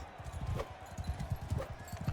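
A horse's hooves clop in a quick, rhythmic gallop in Mount & Blade II: Bannerlord, the repeated beats close and clear over faint game ambience.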